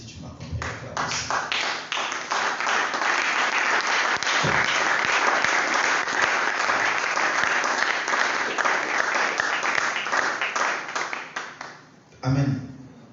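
A church congregation claps energetically in a sustained burst of dense, rhythmic applause that holds steady for several seconds, then tapers off before a short spoken voice cuts through near the end.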